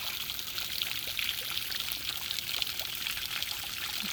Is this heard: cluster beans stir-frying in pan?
no